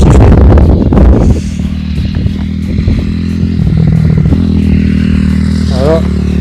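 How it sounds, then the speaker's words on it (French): Motorcycles ridden nearby, their engines droning and revving steadily in the background while someone talks loudly up close at the start. "il y en a qui s'amusent depuis tout à l'heure à faire de la moto"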